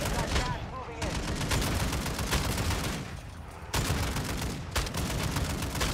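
Rapid, continuous automatic gunfire in the Warzone video game, dense loud bursts that briefly dip before resuming, with players shouting over the shooting.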